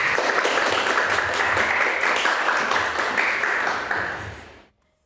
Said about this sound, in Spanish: Les damos un aplauso como bienvenida